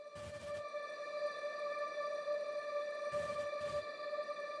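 A sustained synthesizer pad holds a steady, rich chord throughout, with a few soft low thumps joining near the start and again toward the end.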